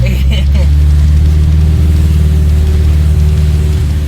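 A 1200 wagon's engine runs loud and close with a steady low rumbling drone throughout, and a voice briefly talks over it near the start.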